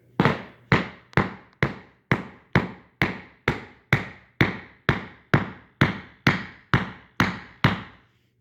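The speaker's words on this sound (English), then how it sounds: "Take my hammer. Be careful not to hit the surface and hit it." A hammer taps Pergo floating floor boards back together: about seventeen sharp, evenly spaced knocks, close and clear, each dying away quickly.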